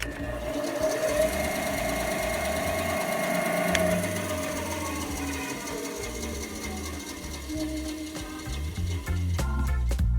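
A Laguna V:10 bandsaw with balanced cast iron wheels runs with a smooth, steady motor hum and a faint whir, holding an even level throughout with no talking.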